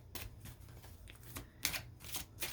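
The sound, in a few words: shuffling tarot cards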